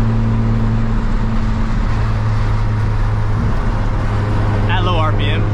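A turbocharged Nissan Z cruising at a steady 2200 RPM on the road, a constant low engine hum and droning road noise filling the cabin, loud and unbroken, with a faint brief chirp near the end.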